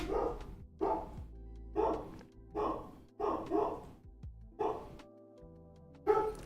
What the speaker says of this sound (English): Oh yeah, you can hear the dogs for sure.